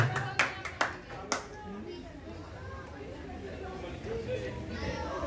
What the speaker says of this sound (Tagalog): Palakpakan naman!